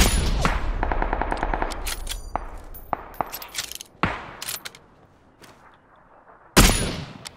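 Gunfire from the battle royale video game PUBG: rapid automatic bursts crackle at first, then scattered single shots pop at varying distances, and one loud close blast comes near the end.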